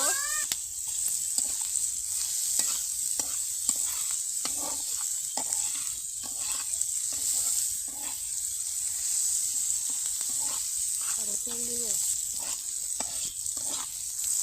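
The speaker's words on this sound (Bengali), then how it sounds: "তো পেঁয়াজ, রসুন এবং মরিচটাকে ভালো করে ভেজে নিব।" Onion, garlic and chili fry for a dried-fish dish, a steady bright sizzle broken by repeated scraping strokes of a spatula in the pan, heard close and fairly quiet. No talking.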